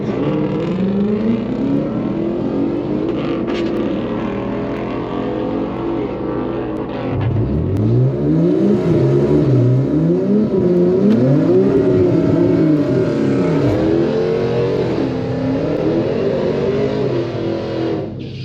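An E85-tuned Infiniti Q50 drag racing a Hellcat at the track roars loud and close, its engine note droning then climbing and falling through several revving sweeps across the run.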